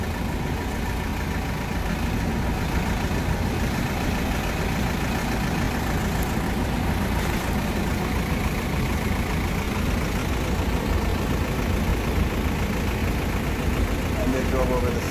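A Mediterranean Gyro Products delivery truck idles at the curb in New York City, its engine giving a steady, continuous low rumble for the whole stretch, with a faint street hum around it.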